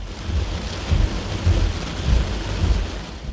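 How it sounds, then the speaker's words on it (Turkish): A hailstorm with thunder and falling hail over a stork's nest in Karacabey, Bursa: a dense, steady roar of hail and rain, with low rumbling swells of thunder throughout. "Fırtına çıktı, dolu taneleri inmeye başladı."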